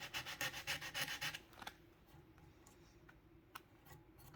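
A Miata valve cover is rubbed by hand with a large sheet of sandpaper in about nine quick, close, rhythmic scraping strokes. The strokes then stop, leaving a quiet pause with a few faint taps.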